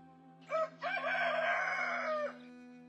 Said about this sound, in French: Le coq chanta lorsque le groupe fut refusé par le dernier hôtel de la ville.